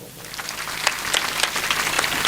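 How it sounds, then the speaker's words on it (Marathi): Brief burst of audience applause at a speech, scattered claps quickly swelling into a fuller patter from a gathered crowd. "वाजवा टाळ्या."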